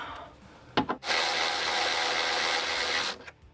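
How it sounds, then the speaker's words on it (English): A ratchet removes Torx 30 speaker bolts inside a Ford Bronco, a couple of quick clicks followed by a loud, continuous rasping whir lasting about two seconds, close up and alone. "We go ahead and remove the top Torx 30 speaker bolts."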